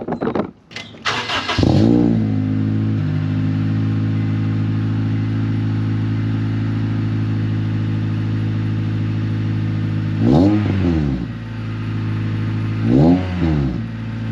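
A Honda engine with a Skunk2 aftermarket exhaust starts and settles into a deep, throaty idle, then revs sharply twice near the end, the exhaust loud and close.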